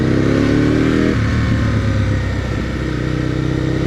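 A motorcycle with loud exhaust pipes drones close by on a road, its engine note loud and sustained, dropping in pitch as it moves past.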